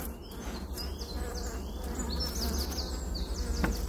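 Honeybees at an opened, smoked hive, during a transfer from a nucleus box to a full hive, drone in a dense, close buzz with individual bees zipping past.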